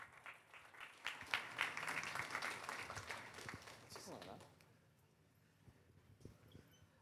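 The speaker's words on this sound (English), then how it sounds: "please give Henri a big round of applause" An audience at a fireside chat event applauding as a guest comes on stage, a faint spread of claps that fades out, followed by a few quiet sounds of movement.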